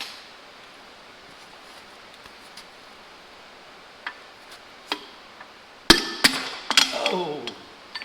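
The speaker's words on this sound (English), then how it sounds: "I'm going to take my trusty hammer." A hammer strikes the stuck pistons in the block of a 1939 Farmall engine, landing several sharp metallic blows in a quick cluster after a quiet stretch with a few lighter taps.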